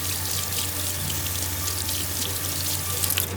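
Water from a tap runs steadily into a sink while something is rinsed and flipped over during vinegar cleaning of hard water stains, a continuous close hiss and splash with no talk.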